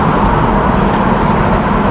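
A 1970 Camaro with a two-barrel 350 V8 idles steadily nearby with a small exhaust leak, a continuous rough, low rumble heard alone.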